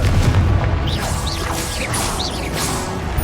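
A Confringo blast spell fires in Hogwarts Legacy, a dense crackling burst with whooshing magical tones layered over a constant rumble of game noise, with no one talking.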